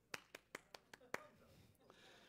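About six sharp, evenly spaced hand claps ring out, fairly quiet and close, before trailing off into low murmuring room noise.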